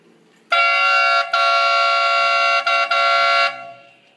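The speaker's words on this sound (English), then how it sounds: "We also have a car horn or a train horn set up in here." A loud, blaring car or train horn sounds close by in a haunted house attraction, one long blast of about three seconds, with a couple of brief stutters before it cuts off.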